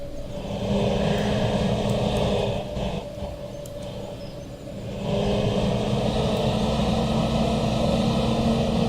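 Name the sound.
tractor engine idling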